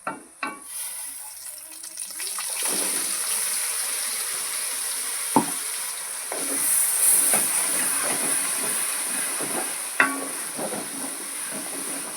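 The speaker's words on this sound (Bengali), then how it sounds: "এবার আমি এতে আদা রসুনের পেস্টটা আর টমেটোর পেস্টটা দিয়ে দেবো।" Ginger-garlic paste and tomato paste fry with browned onions for a Bengali beef kosha, a continuous close hiss of sizzling broken by a few sharp clicks and scrapes.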